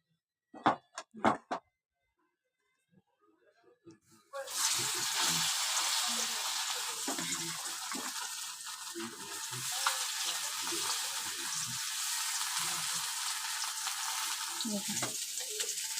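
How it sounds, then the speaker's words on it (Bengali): Loach (lote) fish frying in smoking-hot oil at home, a loud steady sizzle that bursts in and runs on for about twelve seconds after a few brief knocks and clatters. "তো আমি ভাজলাম মাছগুলো, আর দুটো আছে ভেজে নিই"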